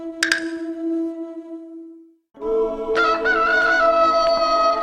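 A rooster crows at dawn, two long full-throated calls with a brief gap between them, loud and close by with no other sounds around.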